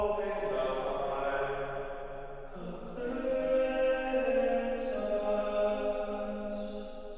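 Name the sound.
vocal reverb send, Valhalla VintageVerb Palace Ballad Snare preset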